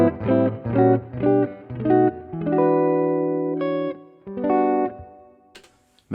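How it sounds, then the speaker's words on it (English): Clean jazz tone from an electric guitar on the neck pickup through a Fractal FM9, playing repeated plucked chords, then a sustained ringing chord and a short melodic phrase, close and clear with light reverb. "Maybe I need a jazz tone, so same deal, neck pickup."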